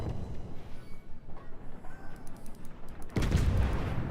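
Warship guns firing in World of Warships, with a low rumbling pulse of the battle soundscape building to a heavy booming salvo near the end, loud and close, without speech.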